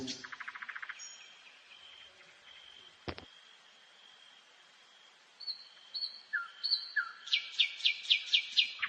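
A nightingale sings alone in a quiet setting, with a rapid trill, scattered clear whistled notes, a sharp click, then a run of repeated rising chirps growing louder.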